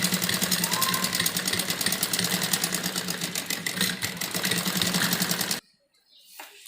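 A sewing machine stitches the folded sleeve of a girl's pleated full-sleeve frock, running in a steady, close, continuous whir before stopping abruptly near the end.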